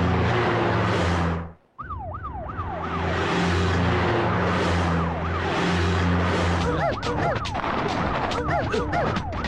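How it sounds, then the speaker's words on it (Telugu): A loud wailing emergency siren, its pitch sweeping up and down repeatedly, runs almost the whole time over a steady low engine hum, with a brief drop out near the start and clattering noises toward the end. "ఏంటి ఆ సౌండ్? సైరన్ సౌండ్ అండి."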